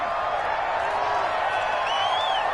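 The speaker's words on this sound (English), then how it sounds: "with the crowd still buzzing" Stadium crowd murmuring in a Madden American football video game, a steady broad wash of distant buzzing voices with faint whoops, continuous and even throughout.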